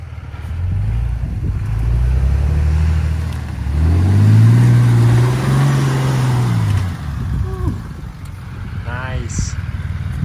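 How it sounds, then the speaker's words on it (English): Truck driving through a hole in a remote cattle pasture, its engine loud and close, revving and rising in pitch as it labors through, then easing off. Voices can be heard near the end. "we got one more vehicle to get through this hole"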